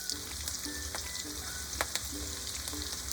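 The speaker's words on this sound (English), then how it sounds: "Step 3, frying veggies." Vegetables sizzle and crackle steadily in a hot pan, with occasional scraping clicks from stirring over the constant frying hiss.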